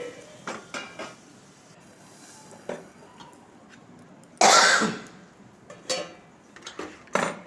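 A metal lid is set onto a cooking pot with one loud clattering clank, surrounded by lighter clinks of utensils and scraping in a quiet kitchen.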